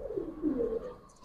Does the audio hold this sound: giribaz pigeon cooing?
yes